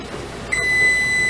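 A kitchen timer, set for ten minutes while cantaloupe jam boils on the stove, goes off with a single steady high electronic tone that starts partway through and holds, clear over a quiet room.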